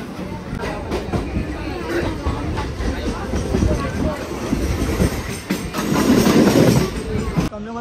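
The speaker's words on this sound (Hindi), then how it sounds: "हम लोग अभी चेन्नई के लोकल ट्रेन में थे" A Chennai local train running, its steady rumble and rattling rolling noise filling the carriage from start to finish, loud and close, with faint chatter from passengers mixed in.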